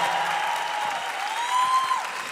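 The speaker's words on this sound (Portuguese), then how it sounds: "Mais uma vez, gente, vamos aplaudir." Concert audience applause at a Catholic priest's CD launch show, a short burst of dense crowd clapping with a faint whistle-like tone sliding above it.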